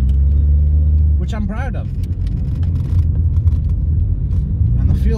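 A Vauxhall Astra H's engine runs with a steady low rumble throughout, someone talking over it for most of the stretch.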